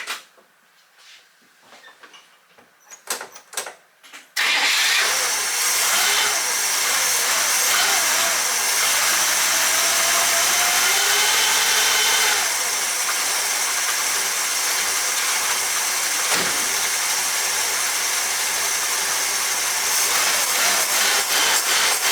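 A small engine on an old machine fires up after sitting, jumping from quiet rustling into a loud, steady idle that runs continuously close to the microphone.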